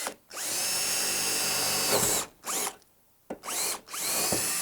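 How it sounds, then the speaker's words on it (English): A power drill whines loudly through an outside wall in long bursts, stopping briefly and starting again, close by. "drill a hole through the outside so we can feed the cable into this compartment up here"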